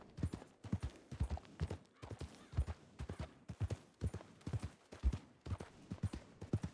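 In a roleplay video game, a horse's hooves clip-clop in clear, evenly spaced clusters of beats, fairly quiet and steady throughout with no talking.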